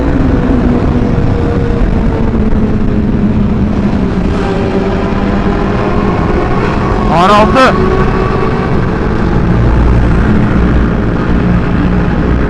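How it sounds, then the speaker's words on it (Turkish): A Honda CBR1000RR motorcycle engine drones steadily with a sharp rev rising and falling midway, echoing in a tunnel, with a voice talking over it. "Ani gaz vermeyi seviyorum"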